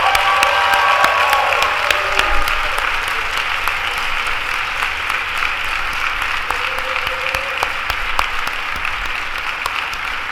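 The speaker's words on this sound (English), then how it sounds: "Please join me in applauding these very important people." Sustained applause from a large audience at a medical school commencement ceremony, honoring the graduates' supporters; dense, steady clapping fills the whole stretch with a few cheers and whistles near the start, with no talk over it.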